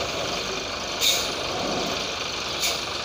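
A truck stopped on a steep ghat road idles with a steady low engine rumble, broken by two brief hissing air bursts, loud and close throughout.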